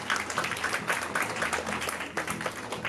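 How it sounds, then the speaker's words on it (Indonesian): An audience at an Indonesian arts dialogue event in a library in central Jakarta claps steadily and fairly loudly throughout, a dense sustained round of applause with no voices over it. "Kita tepuk tangan dulu dong"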